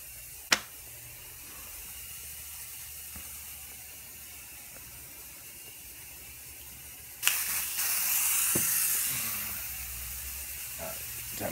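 A close, loud burst of spray hissing for several seconds after a quiet stretch of room tone, ending with a few clicks.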